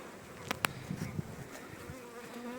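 Honey bees buzzing around hives at an apiary during a honey harvest, a faint continuous hum with a few brief nearer buzzes and light handling knocks over soft outdoor background.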